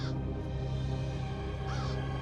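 A crow caws repeatedly in a harsh, rasping call that stands out clearly above a steady hum in the background, with two louder calls, one near the start and one near the end.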